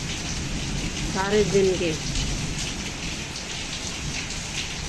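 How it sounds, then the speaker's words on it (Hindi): Heavy rain pouring steadily onto surfaces in the morning, a dense continuous hiss with a faint low rumble of thunder, while a voice speaks briefly over it. "अभी तो गरज रहे हैं बादल, पता नहीं कितनी बारिश होगी अब"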